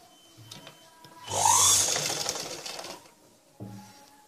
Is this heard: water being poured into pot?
no